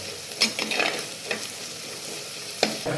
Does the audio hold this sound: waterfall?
no